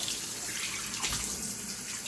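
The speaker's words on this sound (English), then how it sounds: "Wash hands again." Kitchen tap running steadily into a sink while hands are washed during cooking, a close, continuous hiss of water with slight splashing changes and no talk.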